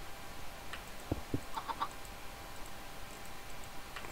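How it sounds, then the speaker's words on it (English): Minecraft chickens cluck in a few soft, brief calls near the middle, faint against a steady low game ambience, with no talking. "Oh, there's two chickens."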